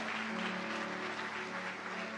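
A church congregation gives a round of applause for Jesus during a Sunday sermon. The dense, steady clapping is heard from a distance, mixed with a sustained organ-like musical tone underneath.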